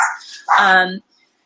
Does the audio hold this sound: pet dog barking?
yes